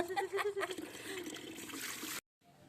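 Water splashing and trickling close by as fish is washed by hand in a home kitchen, a steady wet rush with a voice briefly over it before it cuts off abruptly.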